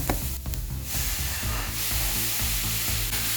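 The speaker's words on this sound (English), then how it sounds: "when you're frying the rice and mixing them all together" Rice with cod sizzling and crackling in a hot pan, a steady loud fry with occasional scraping of a utensil stirring it, no talking.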